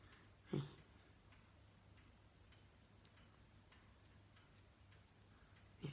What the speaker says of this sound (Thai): ของแท้ ต้องมีเสียงนาฬิกานะคะ